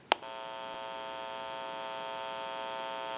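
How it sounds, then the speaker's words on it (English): A sharp click gives way to a steady, buzzing electrical hum from an open amplifier in a test setup for a Western Electric 302 rotary desk telephone. The hum is even, close and continues alone without talk. "You may hear a little bit of an electrical hum."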